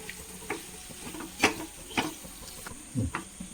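A spoon stirs and mixes mango pickle in a pan, giving several separate scraping strokes with light sizzling, close up and moderately loud, about five distinct stirs.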